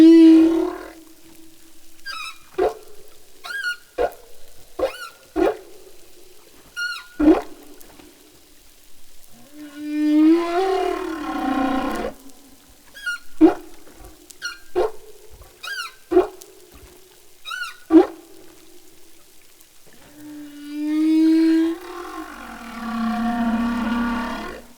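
Recorded whale song: long, moaning calls swelling and fading in slow phrases, broken up by sharp clicking pulses at irregular intervals, heard alone without voices.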